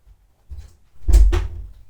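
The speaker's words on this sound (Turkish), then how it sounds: "Kapıyı kapat." A door being pushed shut indoors, a close dull thud with a second knock of the latch right after, alone and brief.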